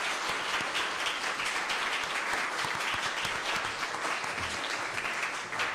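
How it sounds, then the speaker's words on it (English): Sustained, dense audience applause at a televised Wilmington mayoral candidates' forum, with steady even clapping and no letup for the whole stretch. "a round of applause for our mayoral candidates"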